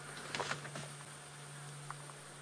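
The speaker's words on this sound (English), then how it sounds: "I can hear the buzz of the flies around" Flies buzzing around a vehicle on an African sunset safari drive near watching leopards, a faint steady insect hum with a few brief louder passes close to the microphone, no talk.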